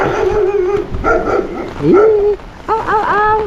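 A large dog barks and yowls close by in several loud, drawn-out bursts with brief pauses between them.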